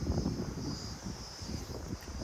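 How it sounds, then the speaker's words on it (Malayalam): Strong wind at Manchanabele Dam near Bangalore buffets the microphone with low, uneven rumbling gusts and a faint airy whistle throughout. "നല്ല രീതിയിൽ കാറ്റടിക്കുന്നുണ്ട്"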